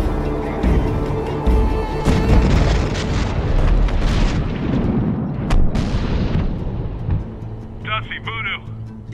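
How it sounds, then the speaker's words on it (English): An airstrike in Medal of Honor Warfighter sets off a dense run of loud booming explosions and rumble that fills the whole stretch, with distorted radio-like voices near the end. "We have airstrike inbound, TOT 15 seconds."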